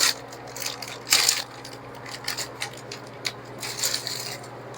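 Solid freeze-dried milk, coffee and strawberry shortcake ice cream pops clack and knock together in a few hard, close clicks and rattles, with a quiet steady hum underneath and no talking.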